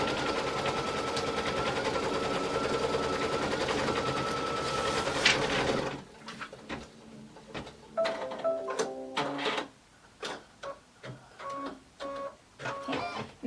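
An embroidery sewing machine stitches a placement line for a glitter mini quilt, giving a loud steady mechanical chatter that stops partway through and leaves scattered clicks and handling noises.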